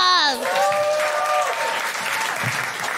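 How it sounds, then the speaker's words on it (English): Live audience applause at a comedy recording breaks out right after a short cheer from a voice, then settles into steady, moderately loud clapping. "A round of applause."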